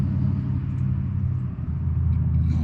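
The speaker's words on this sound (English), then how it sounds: "There goes the big motor trucks with the dog boxes and the 4-wheelers" Big motor trucks hauling dog boxes and four-wheelers drive past outside, giving off a steady low engine rumble that swells and eases slightly as they go by, with no talking.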